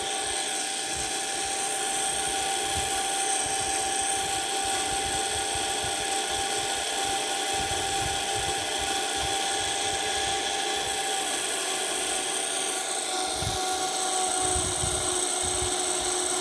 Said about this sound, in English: So now I'll adjust the potentiometer over here, and thus reducing the speed of the motor.